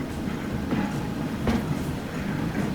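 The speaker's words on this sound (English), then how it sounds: "Yay! We got a tram." A tram in the video game Transport Fever rolls past with soft rumbling and faint rhythmic clatter, quiet and short, with no voices.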